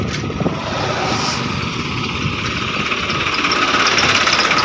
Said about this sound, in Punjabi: ਇਧਰ ਬਾਈ ਹੁਣੀ ਸਪਰੇਅ ਕਰੀ ਜਾਂਦੇ ਆ ਕੋਈ ਟਰੈਕਟਰ ਨਾਲ